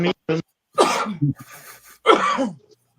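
A sharp, forceful sneeze bursts out between brief snatches of nearby talk, followed by quieter voices.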